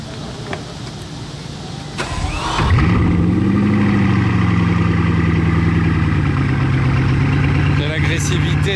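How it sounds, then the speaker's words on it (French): A W16 supercar collected by a hotel valet in Monaco starts with a sharp crank and then settles into a loud, steady, deep engine roar that holds for several seconds at close range, with a revving flare near the end and bystanders talking under it. "Quelle agressivité ce W16."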